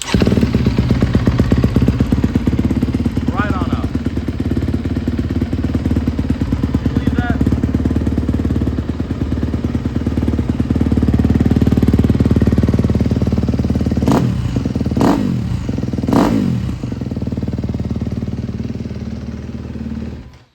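A new motorcycle with an electric start button fires up and runs steadily, its engine rumbling loud and close with a couple of sharp revs near the end, while someone talks over it.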